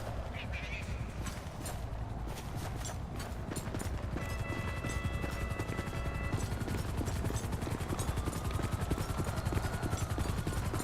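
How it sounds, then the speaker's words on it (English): A helicopter's rapid rotor chop pulses steadily and loudly throughout in the LSPDFR police mod for GTA V, mixed with game sound effects and faint voices underneath. "Got helicopters in the area as well."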